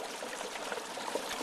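Hot oil bubbles and fizzes as a whole turkey is lowered slowly into a fryer, a steady, dense sizzle with no pauses, close and moderately loud.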